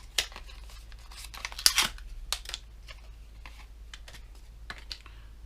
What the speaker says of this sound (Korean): 뜯어 볼게요.